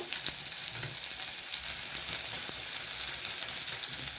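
Ginger and two or three garlic cloves sizzle in hot oil in a kadai for a prawn and bottle gourd curry, a steady close crackling hiss with no talk.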